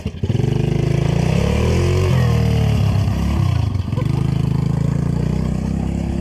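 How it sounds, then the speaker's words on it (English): A motorcycle engine roars loud and close as the rider pulls a wheelie on a road trip through Lithuania, revving hard with a rough rumble and wind buffeting, while people shout over it. "Wheelie!"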